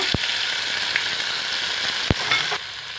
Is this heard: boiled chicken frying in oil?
yes